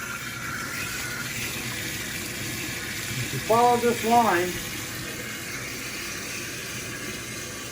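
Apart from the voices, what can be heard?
tap water running through an aquarium siphon cleaner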